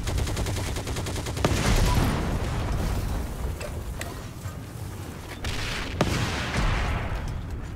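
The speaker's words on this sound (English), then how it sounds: "Except I do want to blow up this tank." Gunfire, explosions and mechanical clatter from the video game Heroes & Generals as a tank is blown up, a dense, continuous battle din with sharp louder bangs, no talk.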